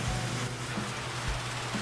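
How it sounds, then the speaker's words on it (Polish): Steady rain falls in the firefighting game Emergency 4, a dense continuous hiss of downpour with faint low rumbling underneath and no voices. "No, deszcz pada."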